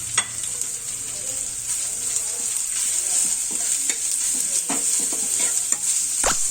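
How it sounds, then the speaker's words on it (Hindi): Steady close sizzling of onion and garlic frying in a hot pan, with occasional stirring scrapes and clicks over the continuous hiss. "प्याज और लहसुन को हमने ज़्यादा फ्राई नहीं किया है, सिर्फ हल्का गुलाबी कलर आने तक भूना है।"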